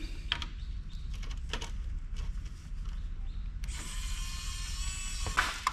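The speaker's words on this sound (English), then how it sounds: "Got to get all these thumb screws off of here." Brass thumb screws being turned off a piece of medical-grade electronic scrap, with quiet ratcheting clicks and metal rubbing, a brief louder scraping stretch near the end, close, no talk.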